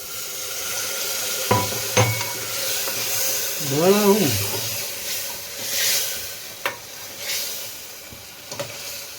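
Vegetable curry sizzles and is stirred in a pan, with steady frying hiss, a few sharp scrapes and knocks, and a brief voice in the middle.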